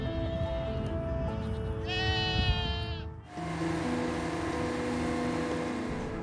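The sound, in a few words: goats bleating while grazing grass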